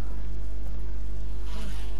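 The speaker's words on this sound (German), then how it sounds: "Oh, wow, da kommen Wespen an, Bienen angeflogen, was auch immer." Wasps and bees buzz in a Resident Evil video game, a continuous insect drone holding steady and loud, growing brighter and closer toward the end.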